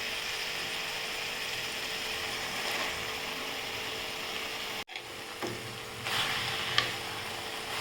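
Sirukeerai greens sautéing in a pan for chutney give a steady close sizzle with scraping stirs, interrupted by a brief dip midway before the frying hiss and clinks resume.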